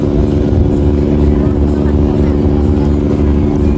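A small boat engine drones steadily and close by as it departs Manado harbour, a low continuous rumble with a throbbing pulse that holds at an even level.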